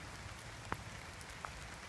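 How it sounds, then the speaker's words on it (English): Rain falls in the woods with a faint, steady patter, broken by a couple of sharper drips, and no voices. "and it's raining"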